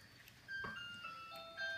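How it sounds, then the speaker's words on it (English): A faint electronic chime from a bathtub signalling auto-fill is finished plays a short, simple melody of sustained tones over quiet background noise. "The bath is finished, so it sings."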